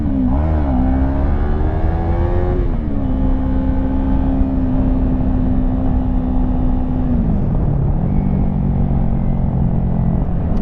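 A 2016 Yamaha YZF-R3 motorcycle engine revs steadily under throttle, its pitch rising and falling through several sweeps and holding a sustained drone, loud and close throughout with no talking.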